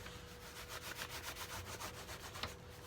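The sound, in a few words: buffing snow seal wax into leather axe sheath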